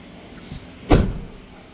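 The heavy door of a Force Gurkha off-road SUV shuts with a single solid, close thump, followed by a short fading rattle against a quiet background.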